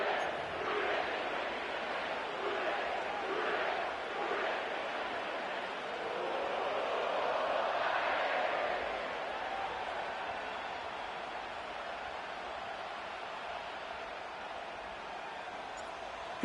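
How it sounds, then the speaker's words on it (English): A sellout stadium crowd at Paycor Stadium in Cincinnati, heard in Madden 25, keeps up a dense, steady roar of cheering that swells in the middle and stays at an even, distant wash. "sellout crowd has arrived at Paycor Stadium in Cincinnati"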